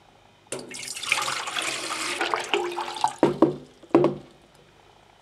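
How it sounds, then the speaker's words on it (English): Water poured from a container into a kettle for roasted barley tea, a splashing, gurgling stream that starts abruptly, runs for a few seconds, then breaks into a few sloshing bursts as it finishes. "First of all, pour the water into the kettle."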